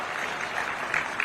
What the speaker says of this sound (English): may we clap for our colleagues from South Africa